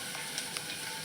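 Oil bubbles and sizzles gently in a pan while ingredients for misal roast, a faint, steady hiss with a couple of tiny pops.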